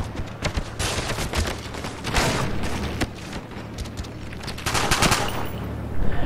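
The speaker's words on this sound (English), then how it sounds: "he's shooting for the walls" Automatic gunfire from a hacker shooting through walls in a Call of Duty Black Ops online match comes in dense repeated bursts with booming impacts, loud and continuous, with no voices over it.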